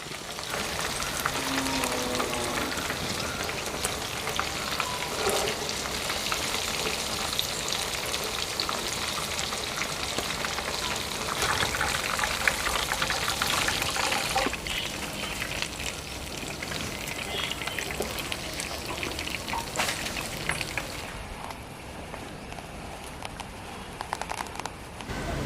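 Cheese rolls deep-frying in hot oil give a steady, dense sizzle with crackling bubbles that runs unbroken throughout, fairly close and even in level, with no talking.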